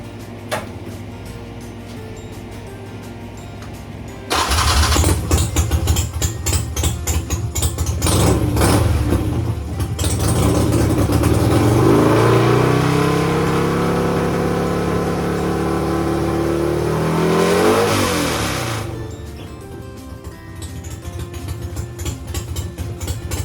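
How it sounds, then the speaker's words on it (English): A 1250 motorcycle engine cranks and fires at about four seconds, then runs loud and close with rising and falling revs for around fifteen seconds before dropping back to a lower idle near the end. "if we did this correctly, the bike should fire up."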